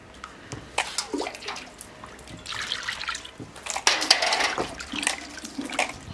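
Tap water runs over three large chicken legs as they are washed by hand, an uneven trickle and splash with bursts of louder splatter as the meat is turned and rubbed.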